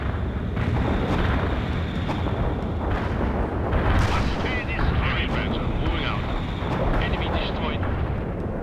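Artillery fire in World in Conflict thunders continuously through a dense battle mix, with repeated booms and gunfire layered under shouted voices.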